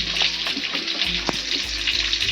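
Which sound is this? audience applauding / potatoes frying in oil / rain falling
potatoes frying in oil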